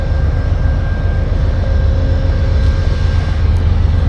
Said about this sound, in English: Of course, the train had to be loud today.